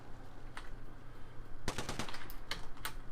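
Automatic gunfire in the video game Apex Legends: a faint single report early, then from mid-clip a loud, dense run of rapid bursts and sharp cracks over a steady low background hum.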